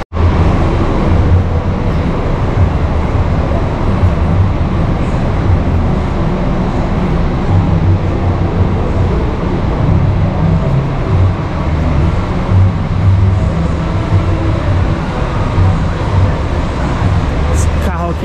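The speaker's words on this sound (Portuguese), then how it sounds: "Esse carro aqui que é um Buscar Vista Bus DD. Carro 2023 da Penha." A Busscar Vista Bus DD double-decker coach from the Penha fleet, a 2023 model, rumbles past in a loud, sustained roar of engine and road noise, with traffic wash continuing throughout.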